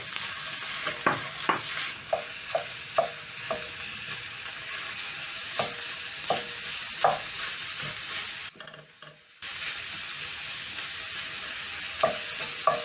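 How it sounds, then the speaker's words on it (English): Lean minced beef frying with a softened onion for spring roll filling, a soft steady sizzle punctuated by repeated spatula scrapes and knocks against the pan, with a brief drop to near silence midway. "next I'm going to add in my minced meat"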